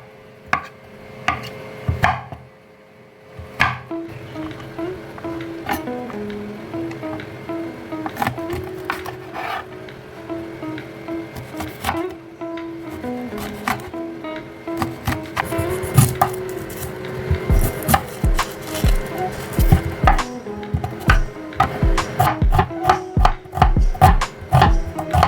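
Vegetables for chow mein are chopped on a board, with irregular knife taps that are sparse at first and then grow quicker and denser over a faint tonal background.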